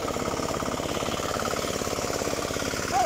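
Kuliglig hand tractor engine running in a farm field, a loud, steady chugging pulse close by with a rapid even rhythm throughout.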